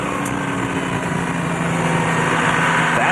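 Audi twin-turbo 5.5-liter all-aluminum turbo diesel race car at Le Mans 2006, a steady, fairly loud engine drone with a sustained hum and no distinct revs, heard alone.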